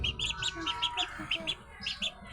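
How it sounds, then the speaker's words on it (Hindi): Roughly week-old ducklings peeping in a loud, close series of short, bright chirps, about a dozen quick calls in an uneven rhythm over a quiet outdoor background. "ये है जी बतख के बच्चे।"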